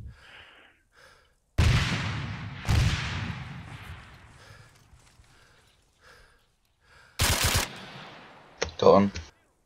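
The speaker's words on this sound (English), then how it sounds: "Chuck a grenade through the window." In the ARMA 3 military game, two loud blasts hit with long decaying rumbles. After a quiet stretch, a third sharp burst lands, followed by a short vocal sound.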